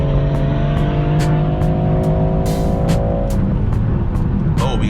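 BMW G20 M340i accelerates with strong engine and road noise, its engine note rising as it hauls through traffic in the cabin, with a brief whoosh near the end.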